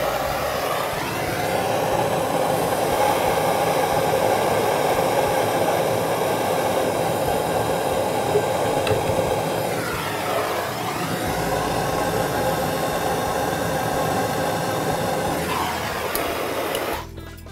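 A torch roars steadily while heating a copper pipe joint for soldering during a valve replacement. The loud, continuous rush holds close for the whole stretch, with slight dips partway through.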